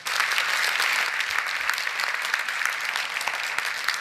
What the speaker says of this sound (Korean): 서로에게 격려의 박수를 크게 한번 쳐주는 거 어떻겠습니까?